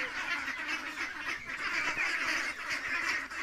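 A flock of Khaki Campbell ducklings, about one and a half months old, quacking and calling continuously at moderate loudness, a dense overlapping chorus with no talking.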